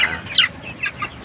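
Chickens cluck close by in a short run of sharp, irregular clucks, with nothing else audible.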